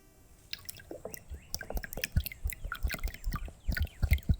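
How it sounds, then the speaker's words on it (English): Pond water filling a bottle in a video game, heard as a run of small drips, splashes and squishy liquid sounds that build from faint to a steady, close, moderately loud burble. "I think we're just going to fill that bottle with water from the pond."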